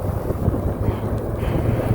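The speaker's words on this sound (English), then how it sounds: "I'm fighting little gusts of wind" Wind gusts buffet the microphone while riding a Philodo H8 e-bike through town, a steady low rumbling roar with no voices.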